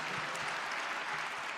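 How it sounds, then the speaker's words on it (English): Brief burst of audience applause at a moderated panel discussion, dense steady clapping heard alone without talk. "Big round of applause, absolutely."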